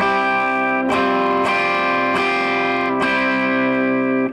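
Electric guitar playing a slide riff, with a heavily effected, distorted tone; several strummed chords ring out in a steady rhythm, loud and close, with no voices.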